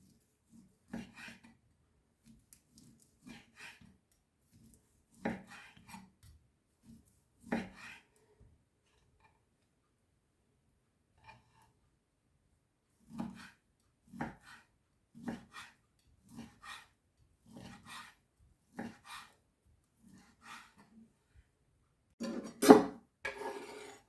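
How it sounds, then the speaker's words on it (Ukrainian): Sparse, quiet knife taps on a cutting board as semi-smoked sausage is sliced into strips, in short irregular runs with long pauses, ending in one louder cut. "Напівкопчену ковбаску нарізаю соломкою."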